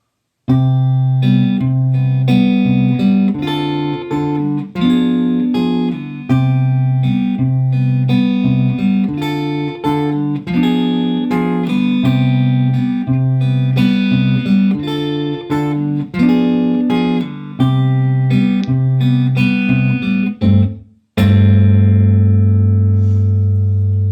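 Guitar playing the main riff of a song, a melodic, bright, slightly distorted line with steady repeated phrases, close and loud, ending on a single ringing struck chord.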